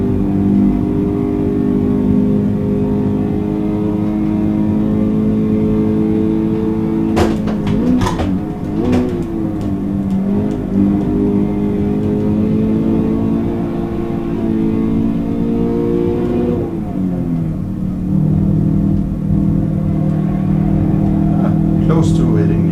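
Toyota GT86 engine in the Assetto Corsa racing game, played in VR, holds a steady droning note throughout, with brief rev shifts and gear changes around the middle and again later.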